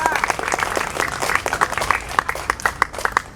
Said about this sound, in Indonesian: Tepuk tangan jangan tanggung-tanggung.